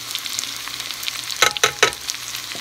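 Food sautéing with garlic in a hot pan gives a steady close sizzle, broken by three or four louder bursts of stirring and scraping as the pan is mixed.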